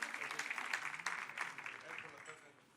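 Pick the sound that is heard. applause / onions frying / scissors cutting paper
applause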